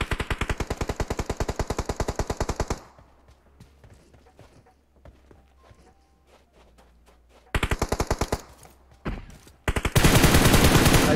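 Rapid automatic gunfire in a shooter video game rattles in loud, evenly spaced bursts, dropping away to quiet footsteps and ambience before the firing resumes in several more bursts.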